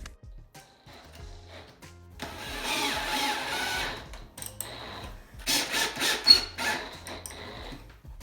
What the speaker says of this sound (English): I could use my drill and install it with some pocket screws